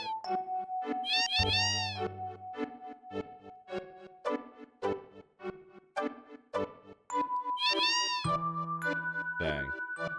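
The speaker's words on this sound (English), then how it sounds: "There is a kitty." A cat in the video game Final Fantasy VII gives two loud, rising-and-falling meows over a bright, tinkling game melody.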